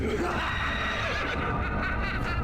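A horse neighs and whinnies in a video game cutscene, a loud, continuous call running the full length against a dense backdrop of game sound.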